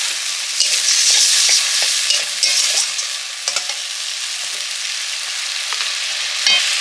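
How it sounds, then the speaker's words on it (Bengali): Spice paste sautéed in a pan with a splash of water, a loud continuous sizzle broken by repeated scraping stirs from a spoon, close up. "পাউডার একটু জল দিয়ে মশলাটা কষে নিচ্ছি"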